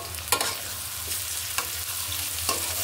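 Three eggs with half a spoon of turmeric fry in a pan, giving a steady close sizzle broken by a few sharp scrapes of a spatula. No one speaks.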